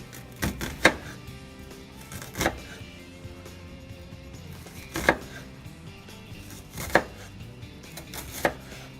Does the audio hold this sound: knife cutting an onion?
yes